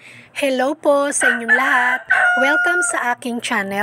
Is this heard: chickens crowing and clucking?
yes